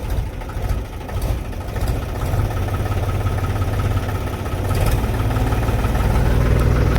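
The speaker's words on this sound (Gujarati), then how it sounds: "ત્યાં દેવાભાઈએ ટ્રેક્ટર ચાલુ કરી લીધું" A farm tractor engine runs at a steady idle, a loud, deep, continuous rumble with a slight rise in level partway through, with no voices over it.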